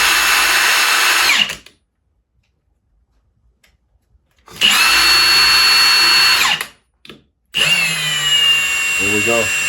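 A Milwaukee 2767-20 half-inch high-torque impact wrench runs in loud, whining bursts: a long run, a pause, another long run, a brief blip, then a final burst, heard close with no talk.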